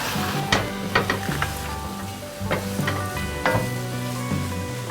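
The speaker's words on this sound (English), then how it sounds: "Give that a nice stir." A spoon stirs flour into a sizzling pan of spezzatino stew meat. Repeated scraping strokes and clinks sit over a steady frying hiss.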